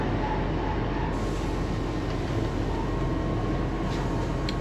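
Steady rumble and rattle from inside a moving train, with a constant low roar and faint high squeals from the rails, no talking.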